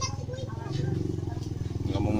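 A nearby motorcycle engine thrums steadily on a rural village road, a low pulsing drone that grows slightly louder, with a voice talking over it.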